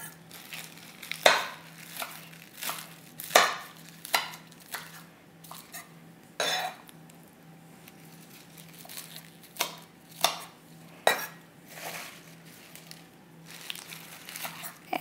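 A knife chopping fresh spinach on a cutting board, irregular sharp taps and knocks with soft leafy crunches between them, close and fairly quiet, no talking.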